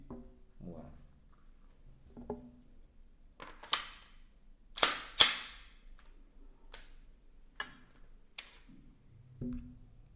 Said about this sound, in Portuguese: E vamos alimentar a arma para que ela fique pronta para o emprego.